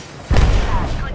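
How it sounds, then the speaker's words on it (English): Gunfire in the battle-royale shooter Apex Legends during a ranked match, a loud booming burst that starts abruptly and stays heavy for the rest of the moment, with speech over it. "I'm spotted, taking fire."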